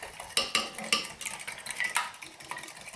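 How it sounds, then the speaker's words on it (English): Wet ingredients and eggs for a Christmas cake, laced with rum, being mixed in a jug: a quick run of sharp metal clinks and scraping strokes against the sides, close and lively, with no talking. "So we've got all of our wet ingredients in one bowl, or jug in this case, and then we're going to give that a good old mix."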